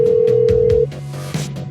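Cell phone line cutting out during a call, steady electronic tones that break off abruptly partway through, leaving a lower hum with a short crackle after.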